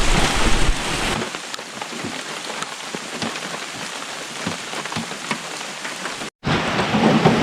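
Heavy rain pours steadily onto the deep woods of northern Minnesota, a dense, close hiss with scattered drip impacts, briefly cut to silence near the end before resuming just as loud.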